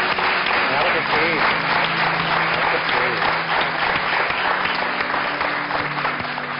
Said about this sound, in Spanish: Un aplauso, por favor, para esas crías.